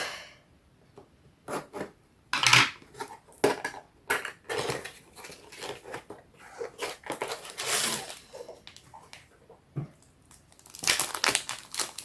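Crinkly plastic packaging of a zebra diamond painting kit is torn open and handled, giving irregular bursts of crackling and crumpling, close and fairly loud, with quiet gaps between rustles.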